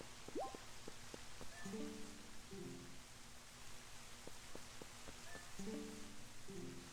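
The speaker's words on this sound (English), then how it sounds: "It's raining, and therefore, because it is, I can't light those torches." Rain falls in the Zelda: Twilight Princess video game as a soft, steady, faint hiss, with short melodic game tones sounding over it at intervals.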